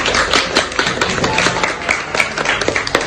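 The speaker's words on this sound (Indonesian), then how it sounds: "Tepuk tangan dulu untuk Kaila" Loud, close clapping from a classroom of young children congratulating a student, a busy uneven patter of small hands continuing throughout.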